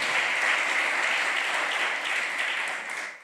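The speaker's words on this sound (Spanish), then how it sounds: "Denle un aplauso a la gracia de Dios" Church congregation clapping during a prophet's sermon, a thick continuous wash of applause, loud and even, fading away in the final moment.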